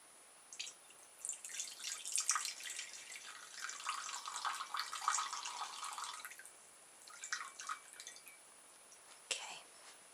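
Water being added for painting, heard as soft drips and trickling splashes of liquid, mostly continuous for several seconds, then a few scattered small splashes near the end, close and gentle with no voices.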